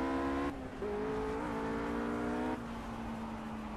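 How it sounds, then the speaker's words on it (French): Race car engines whine in the racing video game Project CARS, a steady high-pitched drone that shifts pitch as gears change, kept fairly quiet and unaccompanied by voices. "j'ai baissé le son, normalement, des voitures, parce que c'était assez fort"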